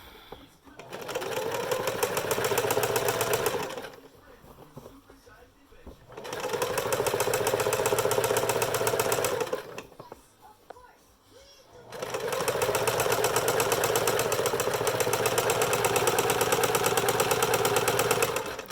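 A sewing machine stitches a straight seam on a homemade fabric face mask in three long, even bursts of fast mechanical whirring, with brief quiet pauses between runs.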